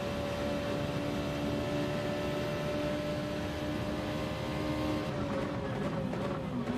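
A race car engine drones steadily at a constant pitch during an easy practice lap on a track, a sustained, even hum with no talk.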